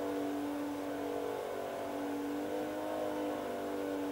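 A TTC-48 race car's engine on a circuit holds a steady, fairly faint drone as the throttle eases off, with no voices.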